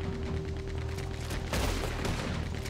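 Gunfire in the game Red Dead Redemption 2, a dense run of close, sharp shots cracking in quick succession, loudest midway, with no talking.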